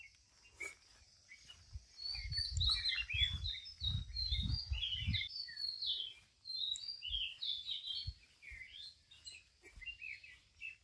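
Small birds chirp and tweet in repeated bright, overlapping calls throughout, heard in a cool, cloudy outdoor setting near a rest house at the Bangladesh–India border, with soft low rumbles and some ambient noise beneath.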